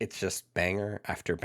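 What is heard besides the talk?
No distinct noise like a dog, phone or traffic.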